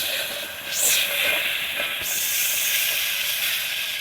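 Masala paste frying in a pan for Telugu-style mutton curry, a continuous loud hiss and sizzle with a sharp burst near the start, no talking.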